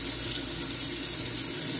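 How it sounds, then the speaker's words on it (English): Hands are washed under a running kitchen tap during beef tamale prep work: a steady, close rush of water that continues unbroken throughout, with no talking. "Wash my hands."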